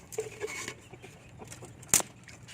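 Rhode Island Red chickens give a few soft, scattered clucks nearby in a quiet coop, with one sharper squawk near the end.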